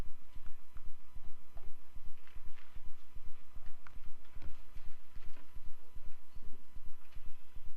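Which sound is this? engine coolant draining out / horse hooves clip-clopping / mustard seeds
horse hooves clip-clopping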